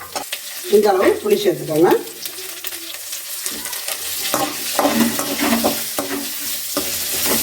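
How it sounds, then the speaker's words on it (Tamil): Small onions and garlic sauté in a pan with a steady sizzle and occasional stirring, while someone speaks briefly over the cooking noise. "இதையும் சேர்த்து வதக்கிக்கலாம்."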